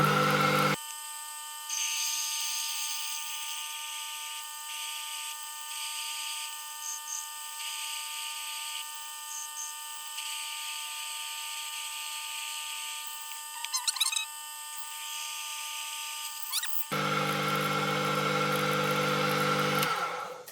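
An electric drill boring through material for pulleys, a sustained high whine that holds steady for many seconds with slight changes in load, ending as the bit breaks through and the motor spins freely.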